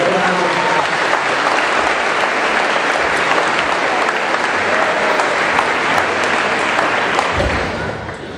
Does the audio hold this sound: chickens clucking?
no